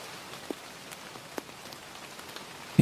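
Rain falling on a surface along a Dublin street by the River Liffey, a soft steady patter with a few brief louder drops and a sudden heavier burst at the very end.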